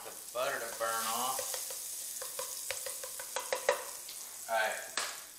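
Butter sizzling in a cast iron skillet on a stovetop while being moved around, a moderate frying crackle with scattered clicks and scrapes, broken by a couple of short tonal squeaks.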